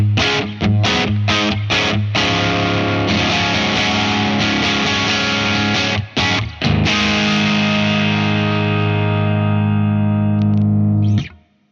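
Electric guitar on the bridge pickup through a Victory VC35 Copper amplifier, a run of picked chords followed by a long sustained chord that rings out loud and alone before being cut off.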